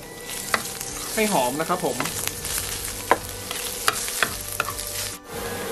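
Chopped ginger and shiitake mushrooms being stir-fried in a pan, with a steady sizzle and repeated scraping strokes of the spatula close by, while someone says a few words briefly.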